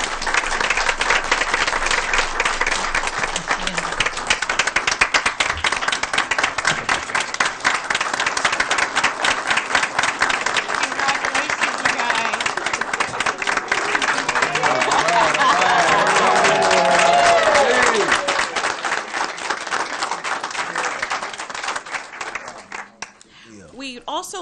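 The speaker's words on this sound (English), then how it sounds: "Please give those ladies a round of applause" Sustained audience applause for students at a school board meeting, dense and even clapping from a large room that swells slightly midway before tapering off at the end.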